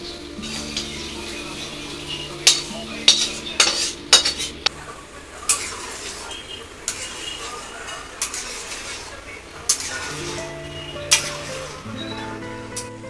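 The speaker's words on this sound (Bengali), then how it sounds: "এবার আমি এটা এই সেদ্ধ করা ডালের মধ্যে দিয়ে নিই।" Spiced rice masala stirred with a metal spoon into boiled lentils, scraping and clinking against the pot in irregular bursts, close and moderately loud, with a soft sizzle underneath.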